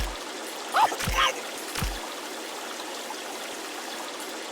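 Water streams and splashes continuously in the mobile game Kick the Buddy, a steady hissing flow with a few short bursts of vocal sounds over it early on.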